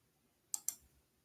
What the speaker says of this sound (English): So I'm just going to go ahead and click apply.